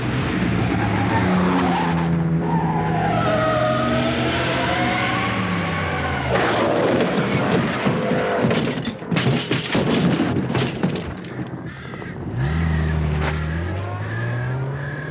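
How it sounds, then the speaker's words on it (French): A car in a 1988 British TV detective drama skids and smashes into a tree near a country château: a loud revving engine and squealing tyres give way midway to a cluster of harsh crashing impacts, then the engine rumbles on. "Un imbécile vient de s'écraser contre un arbre avec sa voiture."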